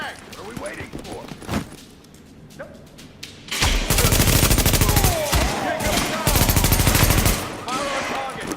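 Heavy automatic gunfire from The Division game: scattered shots at first, then a loud, sustained barrage of rapid bursts, with voices speaking over the fighting.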